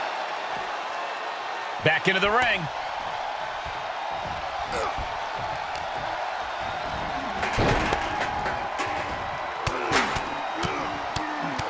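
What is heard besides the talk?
wrestling arena crowd cheering in WWE 2K24 video game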